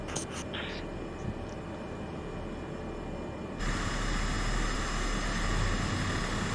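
Light aircraft engine droning in flight, a loud, steady broadband roar from inside the cabin that grows louder partway through, with brief faint chirps early on.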